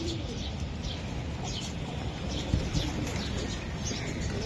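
A restless racing pigeon from a BRPOA racing club, being held and handled, gives faint coos and soft chirps within a steady, noisy background rush, with a voice faintly in the mix.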